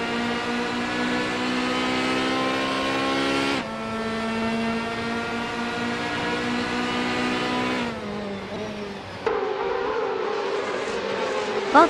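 Race cars in a racing video game roar with loud, sustained high-pitched engine whines, the pitch dropping sharply at gear changes and climbing again during acceleration.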